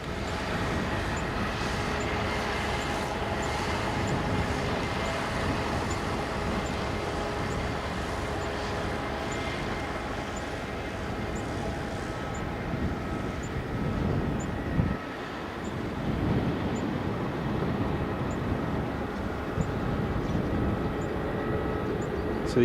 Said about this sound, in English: the EasyJet's just been cleared for takeoff from Bravo